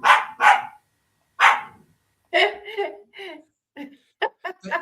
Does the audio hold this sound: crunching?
no